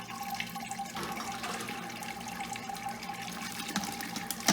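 Homebrew sparge water pours over grain and runs through it, giving a steady close trickle and splash of flowing liquid without pause.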